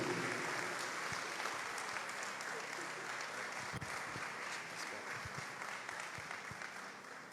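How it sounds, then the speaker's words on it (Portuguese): Church congregation clapping together, a sustained dense wash of hands at moderate distance, gradually thinning slightly toward the end, no voices. "Você pode aplaudir Jesus?"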